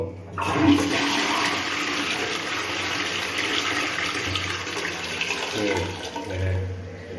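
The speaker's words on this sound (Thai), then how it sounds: "เบื้องต้นเดี๋ยวเราจะทำการกดผลักที่เป็นระบบ 6 ลิตรนะคือ ถ่ายหนักนะ" A Cotto washdown toilet runs its 6-litre full flush, a loud, steady rush of water that carries for several seconds before easing off, with a faint voice underneath.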